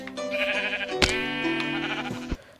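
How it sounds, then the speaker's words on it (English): Repeated sheep bleats in Minecraft, a steady run of wavering calls across the clip with a sharp louder bleat midway and another near the end, fairly close and alone. "Sheep! Come here"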